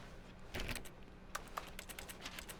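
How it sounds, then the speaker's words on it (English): Keyboard key-press clicks in The Stanley Parable: Ultra Deluxe, a soft cluster of taps near the start followed by a steady run of light, evenly spaced clicks over faint background hum. "Why does it sound like a key? Like I'm hitting like a key on the keyboard."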